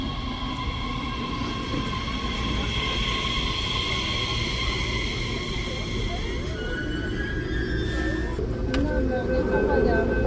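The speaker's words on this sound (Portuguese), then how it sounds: "Esse trem com farol branco é o Expresso." An airport express train rumbles steadily past at close range, a continuous heavy roar with faint metallic whines and squeals riding above it.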